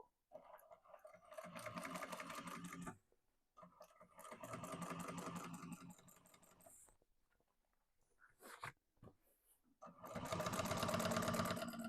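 A sewing machine topstitches a seam through the lining of an Isabella Tote, with three sustained runs of rapid, even stitching close by, separated by brief pauses.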